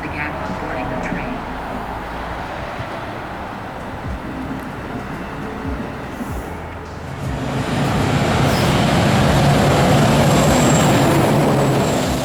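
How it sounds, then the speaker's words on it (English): Pascack Valley local passenger train, number 1634, pulling into a snowy station, a broad rumbling roar that swells and grows louder in the second half as the train arrives close by. "another Pascack Valley train, number 1634, was pulling in right on time"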